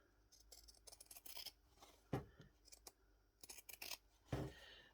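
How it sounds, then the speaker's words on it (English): Scissors snip through the seam allowance and corners of a small doll's school shirt, with several quick, crisp cuts, each a short close crunch, spaced unevenly and heard alone. "Now what I want you to do is trim this seam allowance by half. Cut off the corners."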